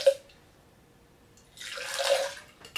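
Hot water poured from one vessel into another to cool it before brewing tea, a brief splash, a quiet gap, then a steady close stream of pouring for about a second before a final splash.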